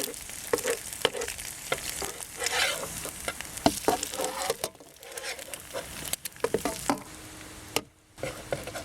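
Pork and shrimp burgers sizzle steadily in a hot pan, with scraping and stirring clatter as they are turned, a brief quiet gap near the end before the frying resumes.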